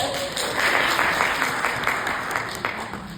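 Applause from an audience at a family talk on homeopathy, a broad steady wash of clapping sustained through the moment without pause and fading slightly at the end.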